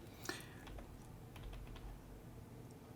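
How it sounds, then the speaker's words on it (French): Rapid, light arrow-key clicks tapped on a computer keyboard in a quick irregular run, close up and fairly quiet, with no voices. "je vais monter avec les touches fléchées de mon clavier"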